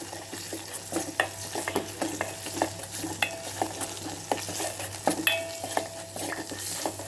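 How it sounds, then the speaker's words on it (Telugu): A tempering for buttermilk rasam with green chilli paste fries in a pan, crackling and sizzling steadily while a spoon clinks and stirs against the metal in frequent sharp taps. "ఇది గోల్డిష్ కలర్ వచ్చేదాకా వేయించుకోవాలి"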